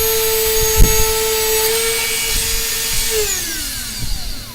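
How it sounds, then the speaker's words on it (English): A power tool's abrasive cutoff wheel whines steadily as it slices through metal while fitting DIY towing lights, its pitch sagging and then dropping away near the end as the cut breaks through, with a few clunks. "Well, it did cut through, but fortunately, I think that was the last cutoff wheel."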